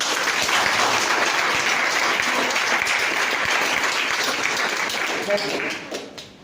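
Loud, steady applause from a crowd for two women at a hostel inauguration at an army academy in Durgapur, sustained for several seconds before tapering off, with talk mixed in.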